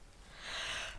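A single close, soft sneeze or sharp exhaled burst rises from a quiet background, swelling briefly in the middle of a short moment before fading, heard alone without talk.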